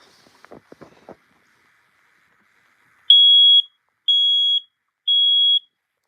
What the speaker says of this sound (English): We have a SMI 100 AC smoke alarm. It's definitely your standard home smoke alarm.